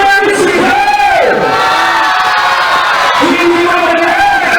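Loud, dense crowd shouting and cheering at a street dance competition, sustained rising and falling yells and whoops filling the whole stretch with no pauses.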